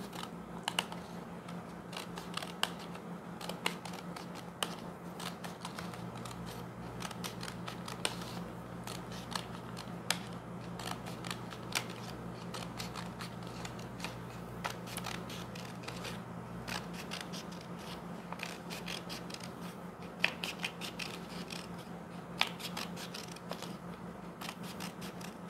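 Scissors snip repeatedly through folded origami paper for a lavender flower, close crisp clicks and cuts in an irregular rhythm over a low steady hum.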